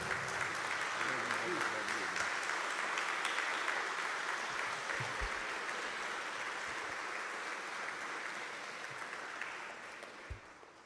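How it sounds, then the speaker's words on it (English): Audience applause welcoming a student minister introduced as a keynote speaker, steady sustained clapping from a large crowd that continues throughout and slowly fades toward the end. "Please welcome him with a round of applause."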